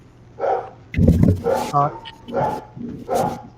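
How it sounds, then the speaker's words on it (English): Two dogs, a pit bull and a Chihuahua, bark in short bursts close by, about five barks spread over a few seconds, with a voice mixed in among them. "Them dogs are barking up, man."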